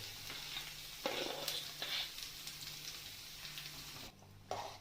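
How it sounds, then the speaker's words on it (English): Tomato paste fries in hot oil in a kadai, giving a close, dense sizzle and spatter with a few stirring scrapes, briefly quieting near the end before another burst. "once the paste is put into the oil kadai, now we are going to toss it properly"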